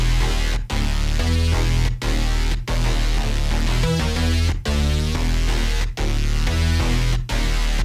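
Thick, aggressive layered synthesizers from a DOOM: The Dark Ages-style metal track play over a heavy low end. The whole mix ducks and pumps in a regular rhythm each time the kick hits, loud and dense throughout.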